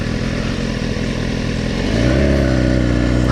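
A motorcycle pulling a wheelie roars close by, its engine note climbing sharply partway through as it accelerates over a steady traffic rumble.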